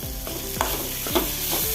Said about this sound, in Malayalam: ആറേഴ് കഷ്ണം തേങ്ങാപ്പൂളുണ്ട് അതും കൂടി ഒന്ന് ചേർത്ത് കൊടുത്താൽ നല്ല നല്ലപോലെ ഇളക്കി കൊടുത്താൽ